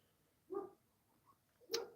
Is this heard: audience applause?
no